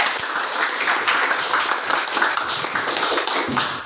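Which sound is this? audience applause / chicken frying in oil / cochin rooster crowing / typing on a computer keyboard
audience applause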